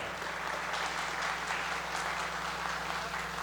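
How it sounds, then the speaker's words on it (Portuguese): Continuous, full applause from an audience at a special council session, filling the room steadily over a low electrical hum. "Mais uma vez, aplausos à Associação Coral."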